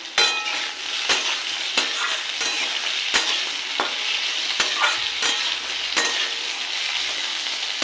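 Slit green chillies sizzle in hot oil in a pan for a khoira fish curry, with a steady frying hiss throughout. Sharp spatula scrapes and taps against the pan recur every second or so, close and loud.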